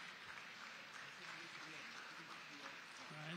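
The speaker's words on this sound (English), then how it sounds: "Can I hear a round of applause?" An audience applauds at a formal memorial masterclass event, giving a steady, dense round of clapping heard quietly and somewhat distant, with a voice faintly present underneath.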